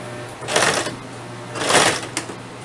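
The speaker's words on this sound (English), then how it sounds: "Now my sewing machine likes to stick every so often" A home sewing machine stitching fabric for a rice heating bag runs in two short bursts of whirring stitches, close and moderately loud, with a pause between them.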